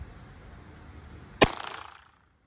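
A single sharp shot from a Hi-Standard Sentinel Mark 1 .22 LR revolver, loud and close, cracking out of a quiet background and ringing briefly before fading to silence.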